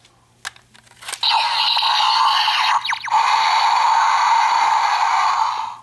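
Power Rangers Dino Charge Deluxe Dino Saber toy sounding off: a couple of sharp plastic clicks, then a loud, bright, hissing electronic sound effect that holds for several seconds with a brief glitchy break partway through before fading, no talking.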